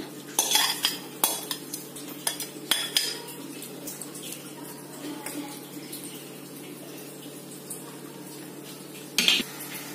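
Gravy is scraped into a pot of Malabar chicken dum biryani and stirred through with a metal spoon, giving several sharp clinks and scrapes early on, a softer wet stirring in the middle and one more clatter near the end.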